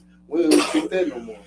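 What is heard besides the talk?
sneeze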